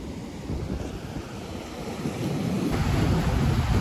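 Strong wind on a fishing beach roars steadily into the microphone, mixed with surf, and grows louder toward the end.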